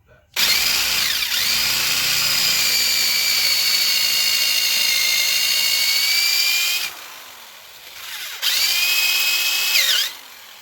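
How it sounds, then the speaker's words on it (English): A power drill whines at high speed drilling out a stripped screw on a 2014 Kia Sportage during rear rotor replacement, stops, then runs again in a second shorter burst, close and loud. "Show you me drilling one of these out just for GP."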